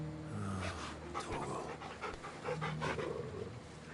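Torgal, the dog in Final Fantasy XVI, pants steadily and close by after being patted, a rhythmic run of quick breaths over faint background music.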